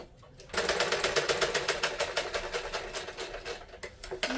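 A sewing machine stitches a chudidar, starting after a brief pause and running in a fast, steady mechanical chatter close by, with slight speed changes near the end.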